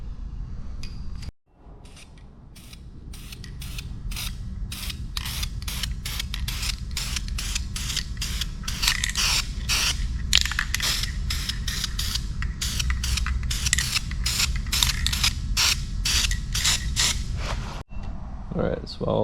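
New headlight surrounds for an XJ are spray painted with an aerosol can, short hissing bursts repeating in a steady, fast rhythm over a low background hum.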